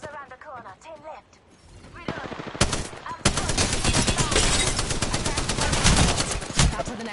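Rapid automatic gunfire in a battle royale video game, sustained bursts of dense loud shots after some quieter opening moments, with a voice talking faintly beneath.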